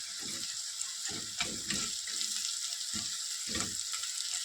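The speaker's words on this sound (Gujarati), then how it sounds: "તો આપણા ડુંગળી ટમેટા સરસ સોતરાઈ ગયા છે" Onions, tomatoes and masala paste for prawn masala sizzle steadily in a pan, a constant bright frying hiss broken by soft, irregular stirring scrapes, close and moderately loud with no talking.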